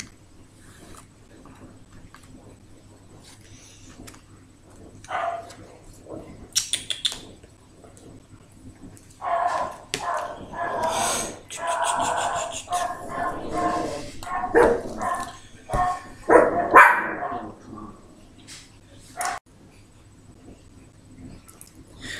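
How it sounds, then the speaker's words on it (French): A small female dog barks back at a neighbour's dog that keeps barking, in a series of yips and barks of varying loudness at close range, under a low background hum. "parce que le chien du voisin qui gueulait, donc du coup, elle est obligée de lui répondre"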